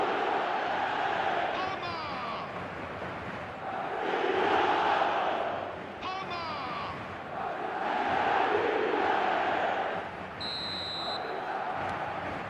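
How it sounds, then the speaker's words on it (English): A football stadium crowd roars after a Madrid goal, a huge massed rumble of voices that swells and ebbs in repeated waves, with a short, sharp high tone near the end. "the crowd level has gone up a notch or 10"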